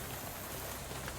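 Steady rain in the video game Shadows Over Loathing, a dense even patter of drops throughout the brief stretch with no talk over it.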